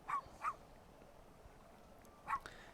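Short dog barks from the video game UNSIGHTED, two quick yips close together followed by a third after a pause, fairly faint over a quiet background.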